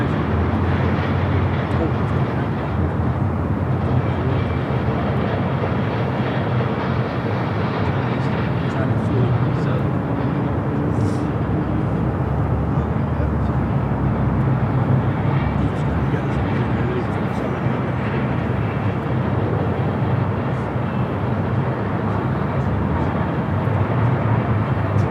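Emirates airliner turning at Los Angeles LAX airport, a steady distant jet roar that holds broad and even throughout, with a voice talking over it.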